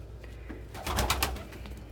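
Diamond doves coo softly inside an enclosure, a short run of low, repeated coos rising to a fuller burst in the middle, close by with no voices.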